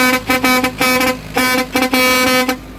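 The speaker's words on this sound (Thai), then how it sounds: "แตรพังแล้ว" A broken vehicle horn honks in a series of short and longer blasts, loud and close, with a harsh, buzzy, cracked, distorted tone.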